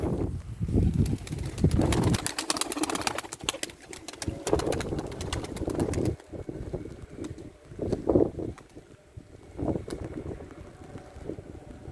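Pigeons flap and take off at an open-air bird market in Edirnekapı, Istanbul, their wingbeats coming as rapid bursts over wind noise and outdoor bustle, rising and fading several times.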